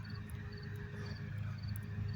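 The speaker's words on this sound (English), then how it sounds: "The crickets," Crickets chirp steadily in short repeating bursts, faint and distant over a low background hum, with no voices.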